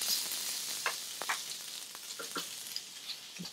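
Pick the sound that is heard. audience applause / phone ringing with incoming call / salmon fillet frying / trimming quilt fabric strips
salmon fillet frying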